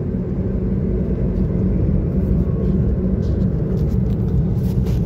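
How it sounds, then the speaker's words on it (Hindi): Steady engine and road rumble inside a 2021 Maruti Wagon R CNG cruising at 100 km/h in third gear on a highway, a loud, constant low drone with no talk. "100 की स्पीड के बाद तो गाड़ी के अंदर इंजन की बहुत ज़्यादा आवाज़ आने लगती है"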